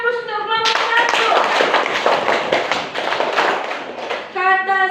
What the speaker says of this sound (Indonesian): Kasih aplaus untuk kelompok 1.